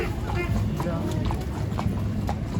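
Horses' hooves clip-clop at a steady walking rhythm on a Marrakesh street, close and distinct, while people talk over them throughout.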